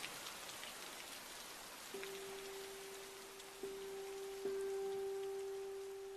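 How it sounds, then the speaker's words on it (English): Steady rain falls in a somber film scene, a soft continuous hiss with no talk, while a sustained low musical tone enters partway through and swells a little toward the end. "They got this somber rain going."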